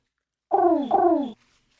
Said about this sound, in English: Pigeons. 'Cause they coo.